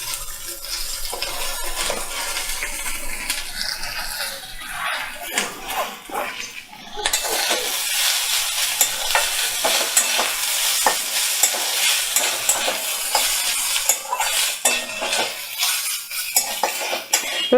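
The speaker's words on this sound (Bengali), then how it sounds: "নারকেলটা একটু ভাজা ভাজা হয়ে যাক।" Grated coconut frying in a pan over a medium flame, stirred steadily with a utensil that scrapes and clinks against the metal. The soft sizzle runs continuously and grows louder and denser midway, with no talking.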